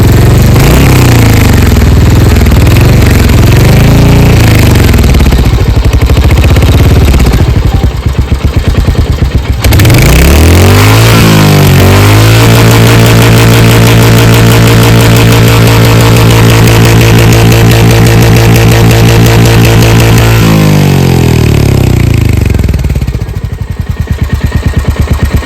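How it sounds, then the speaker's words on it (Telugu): A Royal Enfield Hunter 350 motorcycle, after two services, runs with its engine roaring loud and rough at first, then settling into a steady, close, thumping idle beat that holds for several seconds before revving again. "ఇప్పుడు ఈ బైక్ బీటింగ్ సౌండ్ అయితే మీరు చూడొచ్చు."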